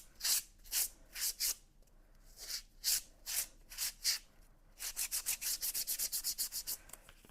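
A gel printing plate is wiped down by hand in rhythmic rubbing strokes, slower swipes first and then a quick even burst of short strokes, close and clear with no talking.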